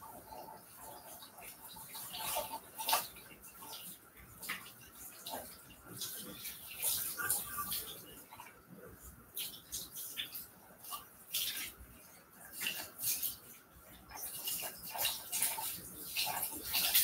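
Water rinses shampoo out of hair in a steady, close splashing stream, with brief louder surges and no talking.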